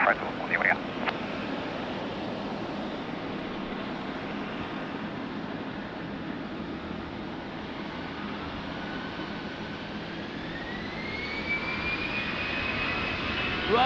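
A jet airliner rolls down runway 20 at Lisbon Airport on a rainy morning, a steady broad roar of engines holding throughout and rising slightly in pitch and loudness toward the end.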